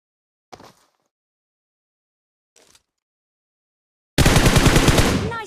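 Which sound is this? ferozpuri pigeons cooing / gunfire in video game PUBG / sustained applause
gunfire in video game PUBG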